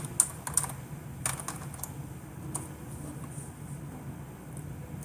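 Typing on a computer keyboard while opening a web browser, a quick run of light, irregular key clicks close by over a steady soft hiss, with no voices.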